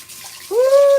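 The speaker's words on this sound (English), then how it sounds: "So now I'm gonna draw some cold water up in here" Cold water starts running from a tap into a bathtub. A rising whistle from the pipe leads into a steady, loud, close rush of water, with no talk.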